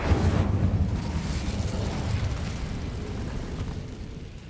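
The Incendio fire spell is cast in the video game Hogwarts Legacy. A loud, low fiery burst roars out at once, then rumbles and slowly dies away over a few seconds.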